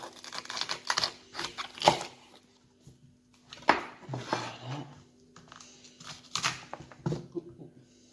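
A knife slices a cauliflower in half on a cutting board in a home kitchen, giving several sharp, close crunching cuts and taps separated by short pauses.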